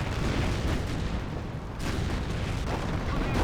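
A half-track artillery barrage in Company of Heroes, heard as a dense, continuous roll of heavy booms and blasts that barely eases for a moment before surging again, loud and close.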